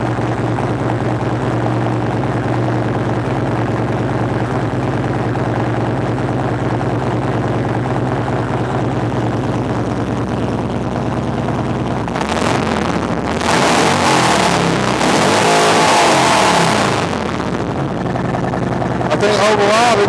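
A motorcycle engine fitted with Vance and Hines Power Duals exhaust idling with a steady low rumble, then revving louder in a short burst before settling back, close by.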